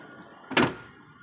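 A manually operated sliding door on a passenger van slides and thuds once, a short close rumble against a quiet interior.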